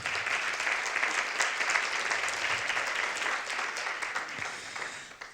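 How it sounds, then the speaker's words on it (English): Conference audience applauds a speaker, a quiet but steady wash of many hands clapping that carries on for several seconds and fades slightly at the end. "Applause for Elina."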